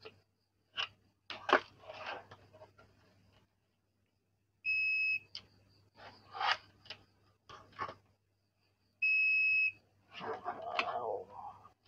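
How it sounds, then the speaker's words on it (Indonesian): An Aneng SZ08 multimeter buzzer sounds two loud, sustained, piercing beeps, each about a second long, with a person talking in between. "Kencang buzzernya. Kencang banget ya."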